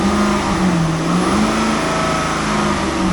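A 2006 Cadillac XLR engine runs steadily at close range with a smooth, quiet hum and faint tonal whine, no talking over it.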